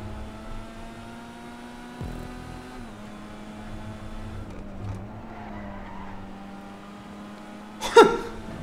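Issi Sport sports car in GTA 5 holding a steady engine drone that dips and shifts, ending in a sharp, loud burst of tire noise or impact near the close.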